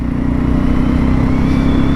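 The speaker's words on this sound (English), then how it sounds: "go for a motorcycle ride" A motorcycle out on a ride, its engine thrumming in a steady, loud low drone with a continuous pulsing rumble and no pauses.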